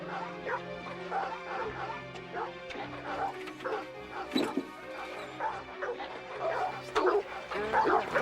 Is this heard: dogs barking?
yes